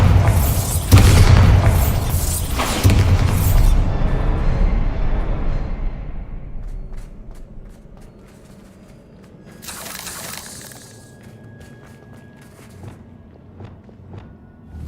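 A Bombarda blasting spell goes off in a wizard school video game, a loud booming explosion with heavy low rumble in the first few seconds, then dying into quieter game ambience with a brighter burst later.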